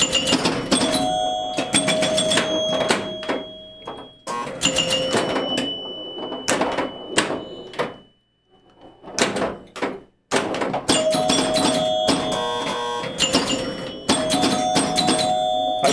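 Fire Queen pinball machine in live play, its chime bells ringing repeatedly in loud bursts over mechanical thunks and game effects, with a short lull partway through.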